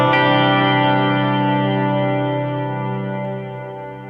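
Electric guitar played for an ambient worship sound through a reverb effect with high and low damping, one sustained chord ringing out alone in a wide wash that slowly decays over several seconds.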